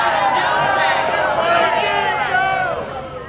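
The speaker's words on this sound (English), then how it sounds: "Nearly booed off the courthouse steps." A crowd outside a courthouse boos and jeers at a defense lawyer during a press conference, a loud swelling roar of voices with shouted calls mixed through it.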